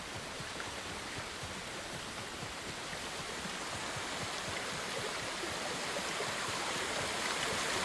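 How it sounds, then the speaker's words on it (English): Rushing water in the video game Ghost of Tsushima flows loudly and steadily, a dense even hiss of a stream or falls with no pauses or voices. "Damn, that water is loud."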